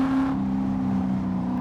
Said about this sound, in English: the exhaust and sound tuning of the car make it sound and feel so much livelier in this car